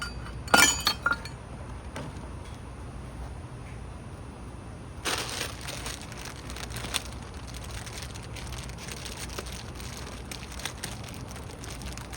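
Glass clinks and cracks sharply near the start, followed by a second burst of crunching glass a few seconds later, then quieter rustling and faint clinks in a calm outdoor garden setting.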